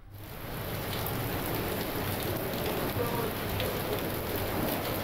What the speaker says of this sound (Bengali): কলকাতাতেও বজ্র বিদ্যুৎ সহ ভারী বৃষ্টি।